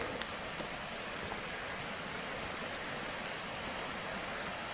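A small mountain creek on a low summer flow rushes steadily, a constant broadband wash of water with no breaks and no voices.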